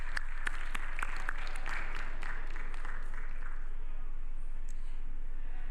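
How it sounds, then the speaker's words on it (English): An audience at the opening ceremony of a digital innovation week in Ghana claps in a short, moderate burst of applause that thins out and fades after a few seconds, with no talking. "A round of applause."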